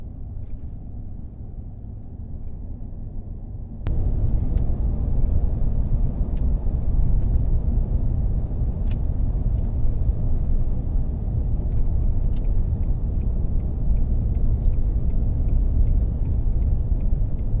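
A car towing a trailer on a road through Alaskan country, a steady low road rumble and engine drone heard from inside, growing louder after a few seconds, with faint intermittent ticks and clicks.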